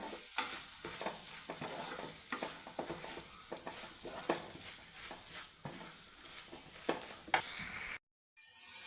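Tomatoes fry and are stirred in a pan for Kerala egg curry, giving a steady soft sizzle broken by repeated scraping strokes of the spoon, close and fairly quiet, with a brief drop to silence near the end.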